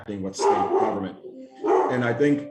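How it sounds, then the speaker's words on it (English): A dog barks and whimpers in the background of a remote government committee meeting, close and fairly loud, mixed in with someone speaking throughout. "apologize for my dog in the background here"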